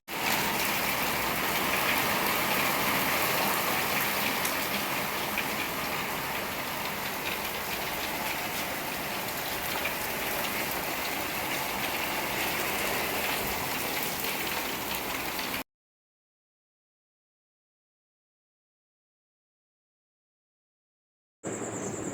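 An afternoon rain shower falls on a rooftop in a dense, steady, even patter that continues for about fifteen seconds, then cuts to silence before briefly resuming at the end.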